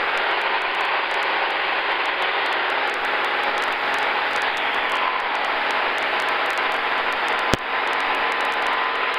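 Sonex aircraft N604CM on its first flight, engine near full power at 3350 RPM: a loud, steady broadband roar heard from inside, unbroken throughout, with one sharp click partway through.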